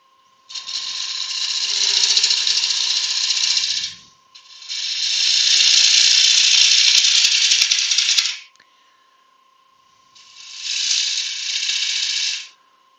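A half-inch bowl gouge cutting a walnut bowl on a lathe, three long loud bursts of harsh scraping and shearing over a steady motor hum, with short pauses between cuts.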